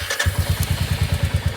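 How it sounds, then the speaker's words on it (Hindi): A Royal Enfield Classic 350 motorcycle starts on its electric self-starter with a brief crank, then a single-cylinder thump settles into a steady, rapid, loud, close beat. "अब मैं स्टार्ट करता हूँ।"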